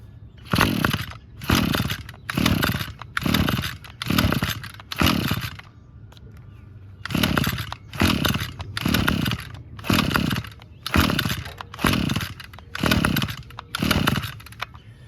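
A Toro 25cc two-stroke string trimmer being pull-started, a run of about thirteen close, loud rasping recoil pulls in a steady rhythm with a brief pause midway, the engine sputtering but not catching.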